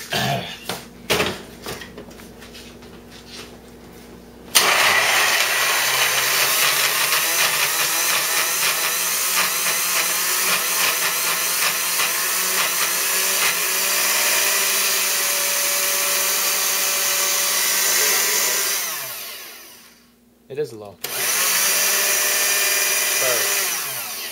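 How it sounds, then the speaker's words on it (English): Countertop blender whirring through jalapeno, red and green pepper hummus: a brief start, then a loud steady motor drone for about fifteen seconds, a short stop, and a restart, close and loud. "We're going to blend it."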